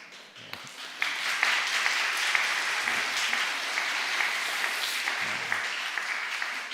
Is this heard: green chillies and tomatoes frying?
no